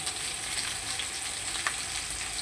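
Turmeric powder being stirred into curry frying in a pan: steady, moderately quiet sizzling and bubbling throughout, with faint scraping of the spoon and no talking.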